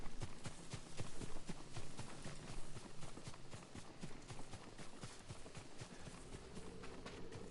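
A horse's hooves clip-clop at a steady trotting rhythm in the samurai video game Ghost of Tsushima. The close, evenly spaced hoofbeats run throughout, fairly quiet and without any talk over them.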